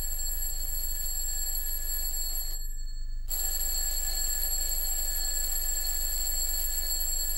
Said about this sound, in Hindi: ये कौन लगाता है अलार्म सुबह सुबह?